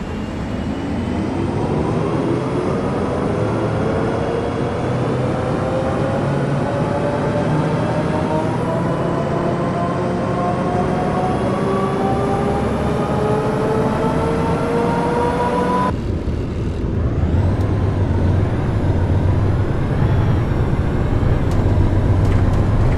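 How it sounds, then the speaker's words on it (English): Heavy diesel bus engine in the OMSI 2 bus simulator game, straining loudly and steadily uphill, its pitch slowly climbing under load for about sixteen seconds before an abrupt gear change drops it into a lower, rougher drone. "The engine strains, the acceleration drops, and the bus climbs slowly."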